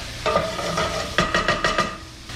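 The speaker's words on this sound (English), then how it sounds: "we've got our mushrooms in sauteing" Mushrooms sauté in a pan with a low sizzle as a utensil stirs and scrapes them, with a quick run of rhythmic clicking strokes in the middle, close and with no talk.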